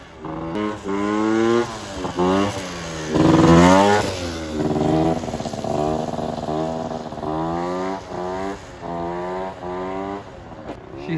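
A 2000 Aprilia SR Zip 50cc scooter on a test ride, its small two-stroke engine revving repeatedly in rising and falling surges, loud and close with no talk.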